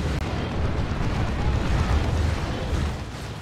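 Space Marine rocket run in Dawn of War 2, a strategy battle between Space Marines and Imperial Guard: a dense, continuous rumble of overlapping explosions, heavy and sustained, fading slightly at the end.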